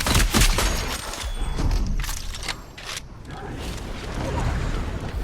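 Gunfire from a weapon in the video game Fortnite during a zombie horde mode, loud rapid bursts of shots and mechanical clacks under a voice talking.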